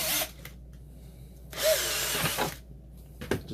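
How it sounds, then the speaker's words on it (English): A drill bit bores all the way through a plastic bucket for a water filter, making two close whining, grinding bursts separated by quieter pauses and ending with a short clack. "Now I'm going to go all the way using the whole bit."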